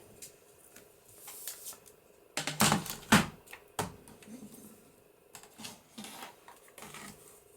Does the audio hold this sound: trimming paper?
yes